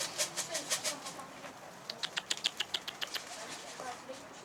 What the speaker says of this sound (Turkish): Bu kadar kuş var.